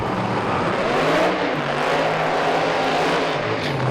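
A Viper pro mod drag car accelerates down the strip at a British Drag Racing Championship round. A broad, loud engine roar carries on throughout with a slightly wavering pitch.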